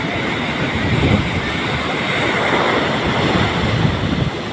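Beach surf roars steadily and loudly, a continuous wash of breaking waves with wind rumble on the microphone and no talking.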